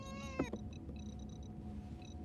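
A cat gives one short meow close by, quiet against a faint background of soft beeping electronic tones in a room.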